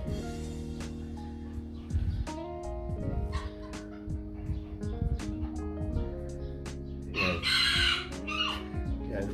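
A bantam rooster crows and clucks up close, its loud repeated calls mixed with dog barks and sharp noises in a farmyard, with faint talk in the background.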